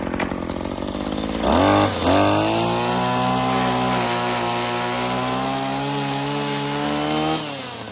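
A cheap weed whacker trims pine trees on a hillside: a loud, close two-stroke engine drone revs up sharply and holds a high, steady whine, with the spinning line buzzing against branches before the engine eases off at the end.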